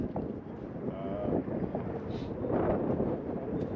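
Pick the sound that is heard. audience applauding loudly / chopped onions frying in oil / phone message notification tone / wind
wind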